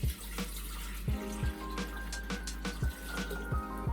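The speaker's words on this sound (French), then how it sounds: "on va commencer par mettre un litre d'eau dans le bol." Water poured into a Thermomix bowl, a litre for a homemade gnocchi recipe: a steady, close trickling stream with bubbly gurgles and small splashy knocks throughout, moderately loud.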